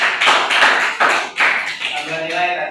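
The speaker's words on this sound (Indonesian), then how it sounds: "Tepuk tangan buat Mas Septian." Students in a classroom give a short burst of clapping in several rhythmic pulses, with a voice emerging as the clapping fades.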